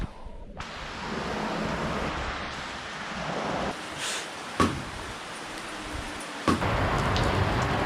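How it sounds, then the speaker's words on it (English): Heavy rain pours down in Nepal, a dense, steady roar close by, broken by a few sharp knocks and splashes. "This rain is coming in hot."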